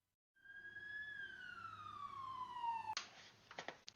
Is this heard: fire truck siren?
yes